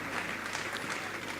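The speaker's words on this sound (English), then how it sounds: "A round of applause for Mr." An audience at a business forum applauding after a guest executive is introduced, a steady dense clapping that fills the whole short stretch without pause.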